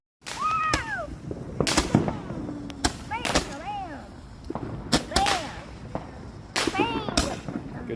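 Fireworks pop and bang in sharp bursts, about six loud cracks spaced a second or so apart, with whistling rising-and-falling tones between them and a voice heard faintly amid the noise.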